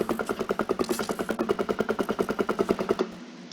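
A Blood Sprayer weapon from the Minecraft Alex's Mobs mod fires in a fast, even stream of pulsing shots for about three seconds, then stops abruptly.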